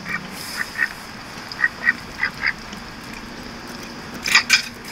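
Cartoon ducks burn in the fireplace video game Little Inferno, letting out repeated short nasal quacks in quick bursts, about a dozen in all, with the last few louder and clustered, over a faint low hum.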